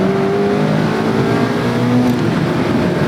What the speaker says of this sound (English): Throttle response is beautifully dialed in. It's making these downshifts a cinch. And even doing a double clutch, no problem.